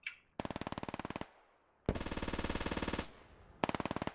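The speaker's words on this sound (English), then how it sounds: "lots of enemy lat fire incoming from village" Three bursts of rapid automatic gunfire crack out in SquadOps, incoming enemy LAT fire from a village, each long rattling string ending in a short echoing tail, fairly distant and separated by pauses.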